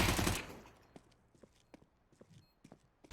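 A short, loud, dense burst of SMG fire (a V90) in Counter-Strike: Global Offensive, followed by scattered sharp, lighter clicks and thuds that trail off.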